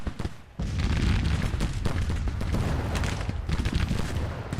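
Massed musket volleys from Civil War brigades in battle in Grand Tactician: The Civil War, a dense continuous crackle of gunfire with booming reports. A brief quieter opening gives way to sustained loud firing, with no talking.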